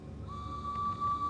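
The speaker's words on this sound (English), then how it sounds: "I can hear the whistle." A single sustained whistle in the video game Banishers: Ghosts of New Eden, fairly faint and steady, holding one pitch for about a second over a low ambient rumble.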